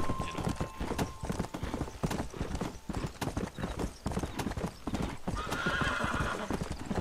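Horse in the western video game Red Dead Redemption, with quick, close hoofbeat clip-clops in an irregular gallop rhythm and a neigh toward the end, steady and fairly loud.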